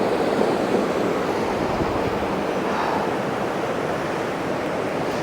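Rushing mountain river water along the Everest Base Camp trek between Phakding and Namche Bazaar in Nepal, a steady, dense wash of noise, close and fairly loud, with no voices.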